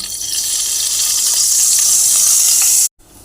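White cooking oil sizzles steadily in a hot pan, a continuous bright hiss close by that cuts off abruptly near the end, with no talk.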